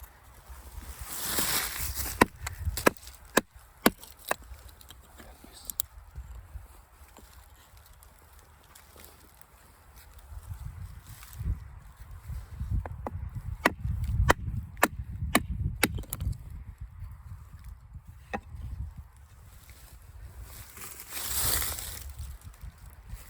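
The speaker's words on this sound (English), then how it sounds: "So if it's needed, you can also use it for batoning. Especially this Cold Steel AD10." Wood is batoned with a Cold Steel AD10 knife: sharp, separate knocks and cracks come in bursts, some close together, between quieter stretches of outdoor background.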